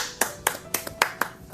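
Six sharp hand claps ring out in an uneven rhythm, close and fairly loud, with no talking over them.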